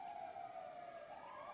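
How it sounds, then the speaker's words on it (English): Police sirens wail in the GTA V NoPixel roleplay game, a faint, distant wavering tone that slides down and back up, continuous and alone without talk. "That's a lot of sirens."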